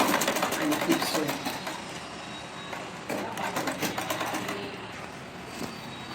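Sewing machine stitching strips of aso oke gele fabric, a steady busy whir running through the whole stretch with small surges in intensity.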